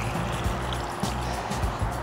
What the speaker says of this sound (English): While you're waiting, fill up a bucket of water.